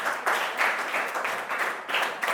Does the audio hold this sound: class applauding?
yes